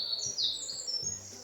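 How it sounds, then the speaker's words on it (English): A songbird sings in the background outdoors, giving bright, high chirping phrases that come and go against a steady low ambient hum. "There is a beautiful bird singing in the background."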